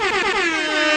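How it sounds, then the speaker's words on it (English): A single loud, blaring air horn sound effect, a sustained brassy blast with a slightly falling pitch, close and alone. "All right, air horn."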